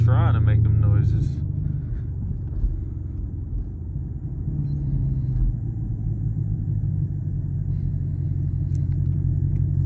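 Camaro SS V8 exhaust on a night drive, a deep steady rumble and burble from inside the car as it downshifts, loud and continuous, with a faint sharp pop near the end.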